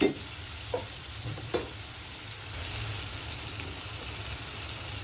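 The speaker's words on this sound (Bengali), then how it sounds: "ভালো করে নেড়ে চিংড়ি মাছের সাথে মশলাগুলো মিশিয়ে নিব।" Prawns being stirred with fish masala spices in a hot pan, a steady close sizzle with a few soft scrapes of the spoon early on.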